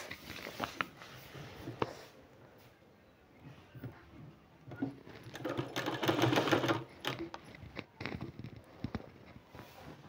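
A sewing machine stitching a garment sleeve seam runs in short bursts of fast, close mechanical whirring and clatter, with a longer steady run in the middle and brief pauses between.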